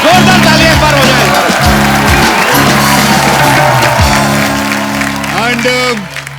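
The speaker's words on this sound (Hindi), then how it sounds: "जोरदार तालियां एक बार हो जाए।" A comedy show studio audience claps and cheers while instrumental music plays loudly over it, with a voice briefly audible near the end.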